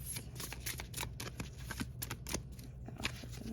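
Romance Angel Oracle cards are shuffled by hand for a tarot reading, a soft continuous riffling and flicking heard close and quiet, with no voice over it.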